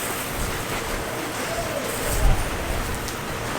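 Steady rain pours during a thunderstorm outdoors on a farm, a dense, even hiss with a brief louder swell near the middle and no clear thunder.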